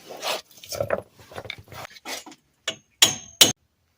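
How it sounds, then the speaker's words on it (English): Several sharp hammer impacts ring out after a stretch of quiet, scraping activity, driving an axle seal into a 1998 Ram 1500; the last two blows loud, distinct and close. "take a hammer and drive that seal in until it stops"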